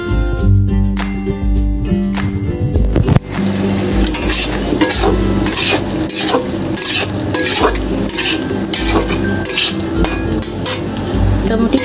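Spice paste for jackfruit and prawn curry is stirred and sautéed in a pan, with a spoon scraping and clanking against the metal over a continuous loud sizzle; a clattering bang comes first, then repeated stirring strokes.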